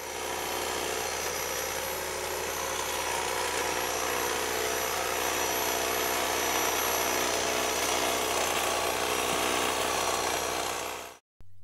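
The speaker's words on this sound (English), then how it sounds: "Likewise, we have electric hedge trimmers also marketed by the same companies." An electric hedge trimmer cutting: a loud, steady motorized buzz with a whining edge that holds constant throughout before cutting off sharply at the end.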